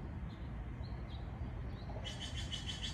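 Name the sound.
bird calling near a tree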